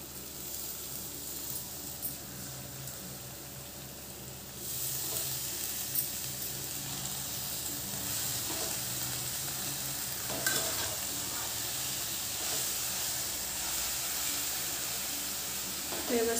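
Dill greens sautéed with moong dal and green chillies in a pan, a continuous soft sizzle and frying hiss with occasional stirring scrapes, growing slightly louder partway through and heard alone.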